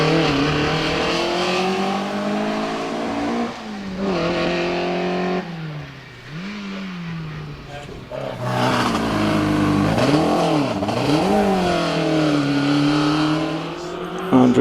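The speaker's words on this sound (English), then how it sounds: "up towards the Torres goes Mark in that Hillman Imp" A Hillman Imp race car climbs a hillclimb course at Prescott, its small engine loud and close as it revs hard through the gears, pitch rising and dipping with each shift, with faint commentary underneath.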